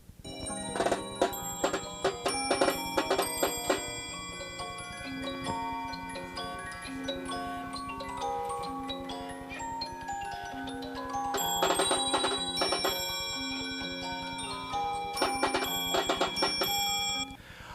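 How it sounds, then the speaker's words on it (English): A Swiss museum music box with bells and drums plays a tinkling melody, bright bell tones over a soft ticking drum pulse, moderately quiet, with busier passages swelling near the start and toward the end. "our Swiss music box, which has bells and drums"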